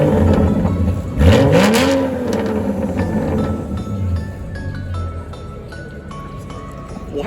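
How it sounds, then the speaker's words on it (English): A Porsche engine revs hard at a car show, one loud rising rev swelling then falling, over a busy crowd murmur and other idling cars. "Wow, that Porsche sounds so good."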